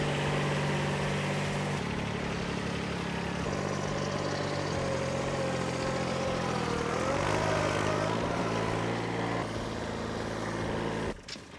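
Micro tractor engine labouring steadily while lifting a loaded dump bucket outdoors, a continuous close droning hum with a slight pitch rise and dip partway through before cutting off near the end.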